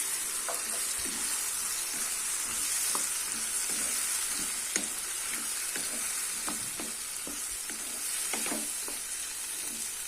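Ground tomato paste sizzles with cauliflower in a pan while cooking cauliflower rice, giving a continuous close frying hiss broken by frequent light scrapes and taps of stirring.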